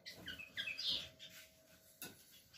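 Small caged finches such as siskins and goldfinches chirp indoors, giving a few faint, scattered high tweets and short calls with a soft click near the end.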